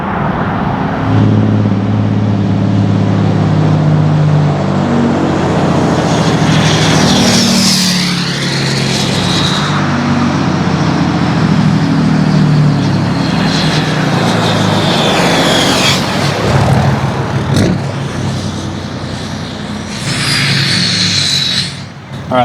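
A 2018 Ram Cummins diesel truck with a G56 manual runs with its exhaust brake engaged, giving a loud, continuous roaring drone that rises and falls with changing engine speed for over twenty seconds, close by.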